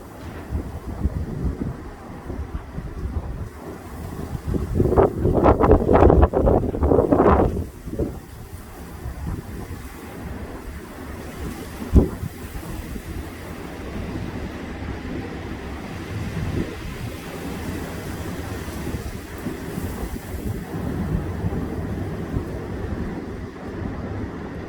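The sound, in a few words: strong gusting wind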